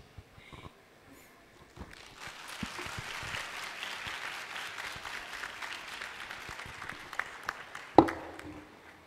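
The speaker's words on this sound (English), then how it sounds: "please give Dominado a big round of applause for a very fruitful discussion" An audience claps after a panel discussion on a conference main stage, the applause starting after a quiet moment and holding at a steady, moderate level for several seconds with a sharper clap near the end.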